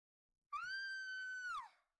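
A single sustained high-pitched scream in the game Who Killed Bigfoot, loud and clean against silence, holding steady for about a second before bending and trailing off.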